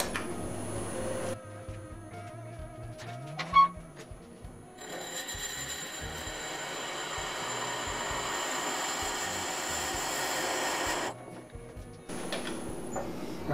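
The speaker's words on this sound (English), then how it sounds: "turn the speed way down, and we'll drill it out" A steady whirring and grinding of a dull drill bit boring into wood on a spinning lathe turned to low speed, starting after a short pause and running for several seconds, fairly quiet.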